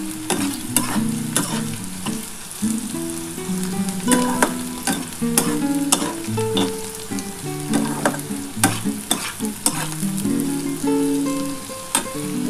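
Ivy gourd and poppy seeds fry and sizzle steadily in a pan, broken by repeated sharp clinks and scrapes of a spatula stirring throughout.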